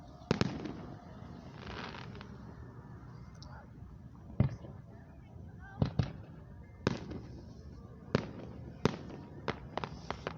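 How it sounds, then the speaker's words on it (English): Fireworks boom over Grand Lake St. Mary's at a lakeside festival show in Celina, Ohio, with sharp separate bursts every second or so over a dull crowd murmur and faint crackle. "This is like my second time to get a firework explosion"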